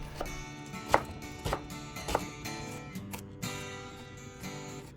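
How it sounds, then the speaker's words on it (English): A knife chops yellow onion and garlic on a cutting board, giving a series of sharp, irregular thuds, some louder than others, close and clear with no talk. "Chop a yellow onion and some garlic."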